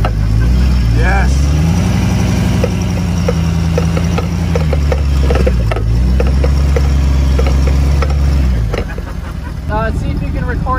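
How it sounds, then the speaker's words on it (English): A round bale hauler's engine runs at a steady mid-pitched hum while its loose drive shaft clatters and knocks in rapid irregular clicks, fairly loud and close, with indistinct voices underneath. "See if you can record that drive shaft flopping around."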